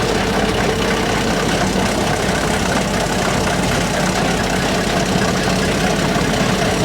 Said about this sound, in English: All right, Andy, kick the combine and feed her back on and see if the motor is actually spinning.